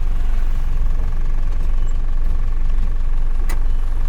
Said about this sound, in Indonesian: Ayo coba kita start dari gigi 1. Apakah gigi satunya lompat-lompat?